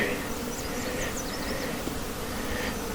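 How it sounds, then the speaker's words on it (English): Buzzing insects at a beehive, including a bumblebee, drone in a steady, continuous hum with rising and falling tones close by, with a faint voice briefly present. "Oh, there's a bumblebee."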